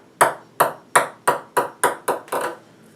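A regular ping pong ball bounces on a hard surface, making about eight crisp, evenly spaced clicks that come slightly faster toward the end, close and clear with no talking.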